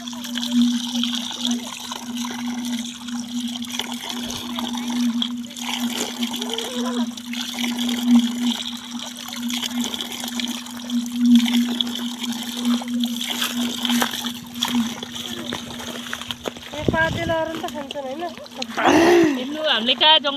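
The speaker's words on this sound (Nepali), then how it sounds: "हामीले कहाँ जङ्गलमा पानीको धारा भेटेछ। पानीको धारा" Water pours steadily from a spout in the jungle, a continuous rushing trickle with a low hum beneath it, and voices talk throughout.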